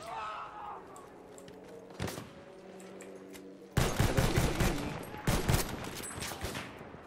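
Rapid bursts of gunfire and heavy explosive blasts in Battlefield 1, a lone shot first then a dense bombardment barrage that keeps rattling, with a voice talking underneath.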